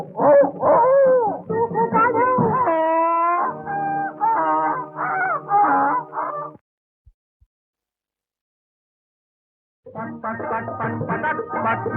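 A singer in a Marathi song imitates a dog with howling, yelping vocal cries over accompaniment. After about six seconds there is a pause of near silence, and then the sung imitation returns, loud and close.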